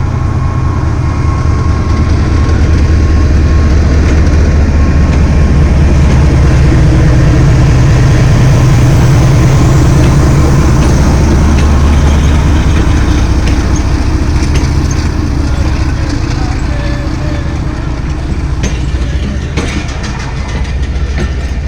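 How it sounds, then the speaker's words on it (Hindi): Khyber Mail passenger train led by a GEU-40 diesel locomotive departing Rahim Yar Khan railway station, a loud continuous engine drone with rolling wagon clatter and wheel clicks passing close by throughout. "अब खैबर मेल रहीम यार खान रेलवे स्टेशन से डिपार्चर हो रही है, जिसको लीड कर रहा है GEU-40-9041"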